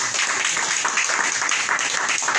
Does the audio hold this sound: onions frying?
no